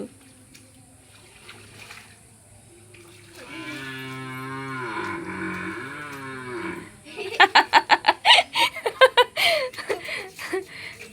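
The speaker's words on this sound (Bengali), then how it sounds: "ওই দেখো আর একটা গরু আসতেছে, ওই দেখো, ওই যে আর একটা গরু।" A cow lets out one long, deep, drawn-out moo nearby, followed by a run of rapid, bursting voice sounds, likely giggling, from people close by.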